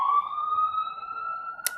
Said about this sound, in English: wait for the ambulance to go by